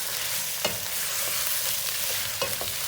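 Chicken and onion frying in a pot, a steady close sizzle with a few sharp stirring scrapes and clinks over it, and no voices.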